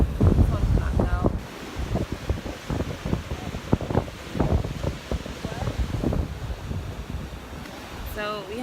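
Strong beach wind buffets a phone microphone with constant rough rumbling and gusty roar, while a person talks intermittently beneath the noise.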